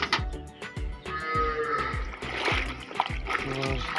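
Cloth dropped into water for washing, giving repeated wet splashes and sloshing at close range, with a bleating animal and other household noise behind it.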